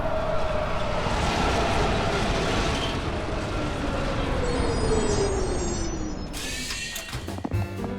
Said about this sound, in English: Oh, good, the train's here.